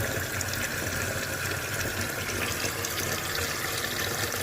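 Cold tap water pours steadily over smoked Silesian sausage to cool it, a loud, close, continuous rushing and splashing stream with no talk over it.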